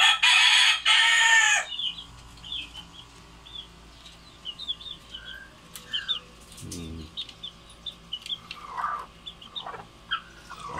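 A backyard farm rooster crows loudly and close at the start, followed by scattered chirps from chicks and hens, soft clucks and a brief flutter of wings against quiet outdoor background.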